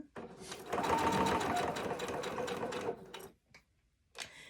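A sewing machine stitches a notepad cover in a close, fast steady whir of about two seconds, then stops, with a few soft clicks and a brief restart at the end.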